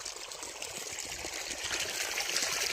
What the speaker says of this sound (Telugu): మనం నీళ్ళు కడుతున్నాం వంగ తోటకి.